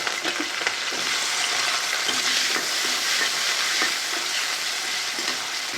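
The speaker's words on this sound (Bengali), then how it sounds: "আলুগুলো একটু হালকা ভাজি করবো।" Potatoes lightly frying in oil in a home kitchen pan give a steady, close sizzle, with occasional scraping taps as they are stirred and turned.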